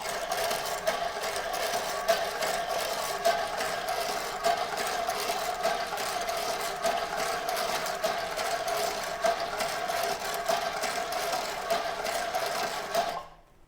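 Winding machine on a homemade side winder pulling small wire tight onto a coil, a fast steady mechanical whirr with a rapid ticking rhythm that runs evenly before stopping abruptly at the end.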